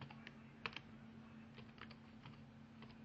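Keystrokes on a computer keyboard typing a search query, a quiet run of light clicks with a couple of sharper taps early on, over a steady low hum.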